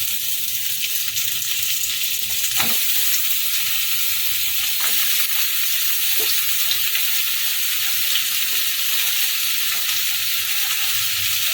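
Cut potato and pointed gourd fry together in a pan for a Bengali lasuni potol dish, producing a loud, continuous sizzle with a few scraping stirs.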